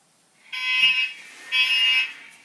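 Model locomotive sound decoder on cold start, its engine trying to fire up: two loud, even electronic bursts of about a second each, separated by a short gap, with no talking.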